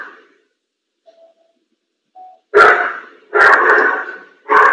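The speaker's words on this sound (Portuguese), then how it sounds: "Tem um cachorro solto aí." A loose dog barks three times in quick succession, loud and close, after a few seconds of near silence broken only by faint thin tones.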